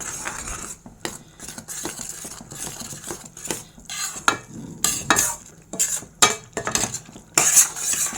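Rice flour is stirred into boiling water in a pot, heard as repeated scraping and knocking strokes of a utensil against the metal in an irregular rhythm, close and fairly loud, with no voices.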